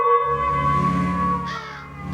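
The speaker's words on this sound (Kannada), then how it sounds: "ಶಿರೋ ಮೇಲ್ಭಾಗದೊಳ್ ಕಾಗೆ ಗೃದ್ಧಾದಿಗಳ ಚೀತ್ಕಾರವೂ ಆರಂಭವಾಯಿತು." Crows cawing as a stage sound effect in a Kannada Ramayana drama, harsh calls repeating over about two seconds at steady, moderate loudness with no voices.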